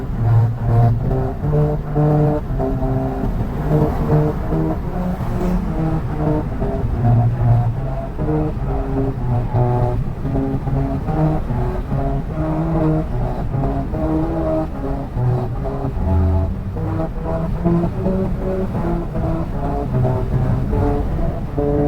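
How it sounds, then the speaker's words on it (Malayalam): Car tyres rolling over the white grooved strip of a musical road in Fujairah, producing a droning tonal tune of shifting pitches that runs steadily inside the vehicle over road and engine hum. "നമ്മൾ ആ വെള്ള ട്രാക്കിൽ കൂടി വണ്ടിന്റെ ടയർ കയറുമ്പോഴുള്ള ഒരു സംഗീത ഒരു ട്യൂണ്"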